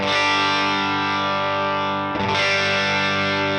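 A heavily distorted electric guitar chord on the bridge humbucker pickup, through a guitar cabinet, rings out thick and sustained, briefly dips, then is struck again and held, loud and buzzy with a bright, biting edge.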